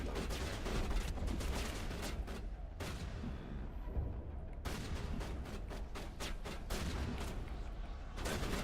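Dense, continuous video-game gunfire with overlapping shots and booms plays loudly throughout, pausing only briefly in a couple of spots.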